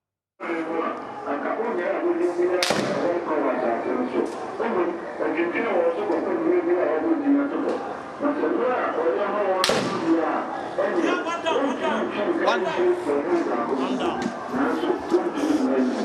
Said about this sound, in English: that's a video of the moment that the military arrived and started firing their shots